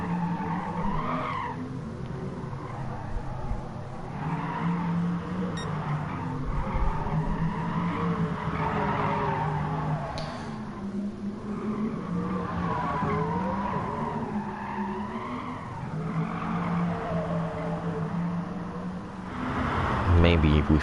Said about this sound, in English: Maybe we feel like there's more tire squeak with Taycan because there's no engine sound.